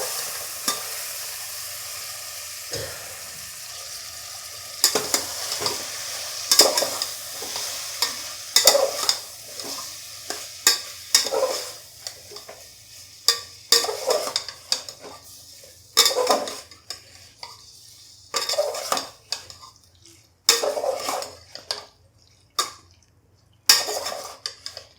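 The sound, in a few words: stirring vegetable biryani mixture in a pan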